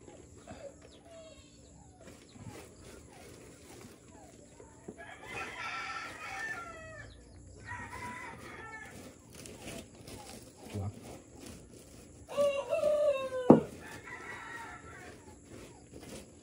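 Chickens cluck and a rooster crows intermittently at a distance, with faint talking in the background.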